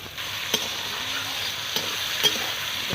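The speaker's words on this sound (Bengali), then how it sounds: "গাজর, ক্যাপসিকাম একসঙ্গে ভেজে নিচ্ছি" Carrots, beans and capsicum fry in a pan with a steady close sizzle, punctuated by a few sharp clacks of a spatula stirring and scraping, no voices.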